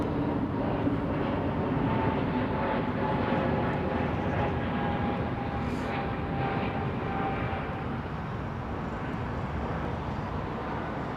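Aircraft at London Heathrow Airport produce a continuous, fairly loud jet engine roar that stays steady throughout, with a faint whine and no voices.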